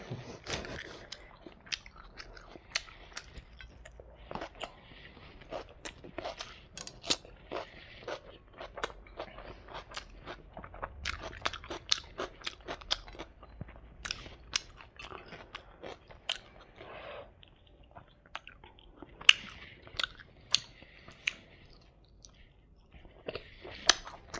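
Close, crunchy biting and chewing of spicy chicken chap served with aloo biryani, a steady run of wet crunches and mouth sounds with no talking.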